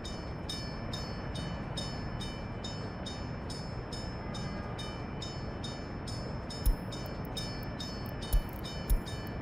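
A train in the Workers & Resources: Soviet Republic simulation game rumbles steadily with a continuous low rail roar, a faint repeating rhythmic ticking above it, and a few brief louder clunks near the end, with no talking.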